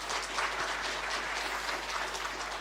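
A church congregation at a Sunday worship service gives a round of applause, a steady, fairly soft wash of clapping with a low electrical hum beneath and no talk.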